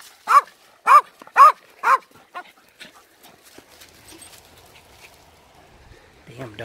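A dog barks four times in quick succession, loud and close, at an outdoor spot near water on a hot day, followed by quieter rustling and a brief voice at the end.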